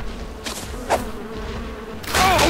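Swarming bees from a hive in the game Ark Survival Evolved buzz close and steady, with a sharper rise of insect whine at the close and no voices.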